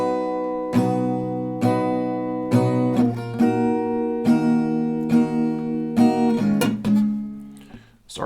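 Acoustic guitar strumming one round of a song, with clear rhythmic strums of ringing chords, up close, ending with a fading, scuffed string noise.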